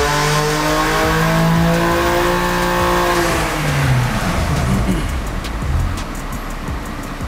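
A car engine with water-methanol injection and a custom tune revs hard on a dyno, climbing in pitch through a long loud pull, then easing off with a lower, rougher rumble.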